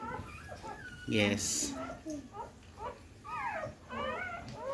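A litter of eight newborn puppies whimpers and yips in thin, rising cries, several short whines close by in quiet surroundings, with someone speaking softly between them.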